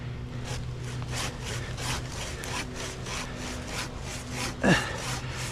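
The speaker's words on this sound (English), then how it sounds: "I'm gonna make the undercut with my handsaw." A handsaw cuts the undercut into a large tree with steady back-and-forth strokes at a fairly even rhythm. The rasping wood noise is close and continuous, with one sharper scrape near the end.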